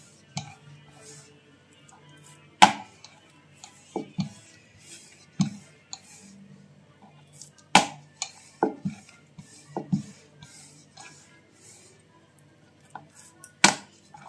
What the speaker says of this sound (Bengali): খুব হালকা হাতে পরোটাটাকে আস্তে আস্তে ঘুরিয়ে ঘুরিয়ে বেলে নিচ্ছি।